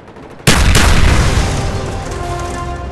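A frag grenade going off in the video game Call of Duty Black Ops: one loud, sudden close boom followed by a second crack and a long rumbling decay.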